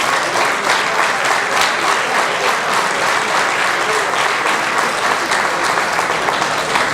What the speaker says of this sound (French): Je pense que ça vaut une grosse main d'applaudissements.